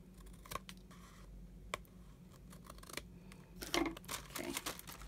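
Scissors trimming the top edge of a handmade journal cover, heard as a few sharp snipping clicks in a quiet room, closer and denser toward the end.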